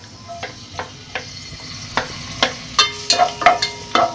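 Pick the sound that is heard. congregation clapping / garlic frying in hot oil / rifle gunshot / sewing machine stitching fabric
garlic frying in hot oil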